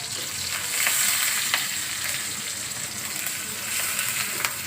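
Jute leaves frying with garlic paste, chopped onion and green chillies in a pan, stirred now and then, making a continuous close sizzle with occasional sharper crackles and soft stirring scrapes, no speech.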